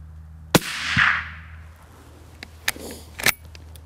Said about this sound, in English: I reload, and this time the 100 grain Lapua bullet does its job.